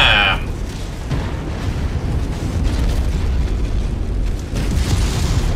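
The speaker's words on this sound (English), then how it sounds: "Oh, ammo explosion detected!" An ammo explosion rips apart a mech's side torso in MechWarrior 5, a loud sustained roaring blast with a sharp crack at the start, dense rumble continuing throughout.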